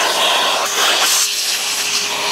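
A vacuum cleaner fitted with a crevice tool works over the dashboard and centre console of a Bentley Turbo R interior, giving a loud, steady rushing whine with slight shifts in pitch as the nozzle moves.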